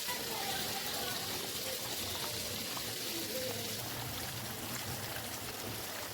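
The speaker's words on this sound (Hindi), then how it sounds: "इसके अंदर काफ़ी पेस्ट लगा हुआ है, इसमें थोड़ा सा पानी डालेंगे" A little water is poured into a container coated with onion-yogurt paste to rinse it out, giving a soft, continuous trickle and splash that stays faint throughout.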